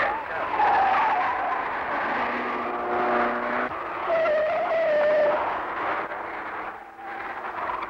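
A Triumph 2000 race car skids at the 1965 Armstrong 500 touring car race, its tires squealing loudly in long, wavering tones over engine noise as it slides through a corner.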